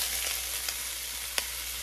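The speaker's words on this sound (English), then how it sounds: "Now, we can go ahead and throw our onions in there." Onions fry in a cast iron Dutch oven in leftover short rib grease with a steady close sizzle and a couple of faint pops.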